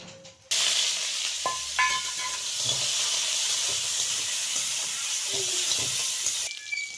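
Potatoes and five-spice dropped into hot oil in a wok over a village cooking fire, a loud steady sizzle and hiss that starts abruptly and persists, with occasional stirring clinks and a voice speaking in the background.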